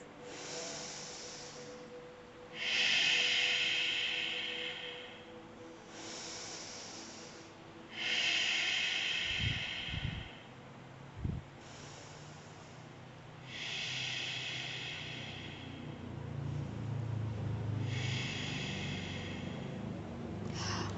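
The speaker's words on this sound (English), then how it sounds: "resting here for 5 deep breaths" Slow, deep yoga breaths in a squat pose with palms pressed together: five or so long, hissing exhales and inhales, each lasting a couple of seconds, close and fairly quiet, with a few soft low thumps midway.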